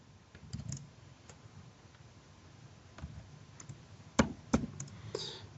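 A computer keyboard is typed on in short, sparse bursts of faint, close clicks and taps separated by quiet gaps, with no talking.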